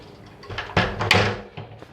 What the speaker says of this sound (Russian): Закроем все двери, чтобы сквозняка не было.